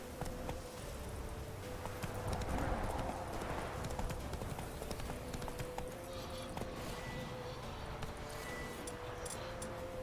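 Horse hooves clip-clop at a steady galloping rhythm in The Witcher 3, continuous and moderately loud over a faint game background.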